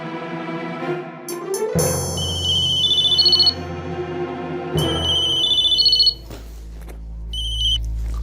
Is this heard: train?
no